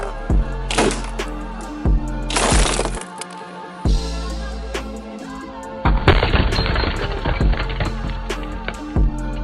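A glass bottle is struck by a slingshot shot and shatters in loud, sharp bursts of breaking glass, with several separate cracking impacts and brief quieter gaps between them.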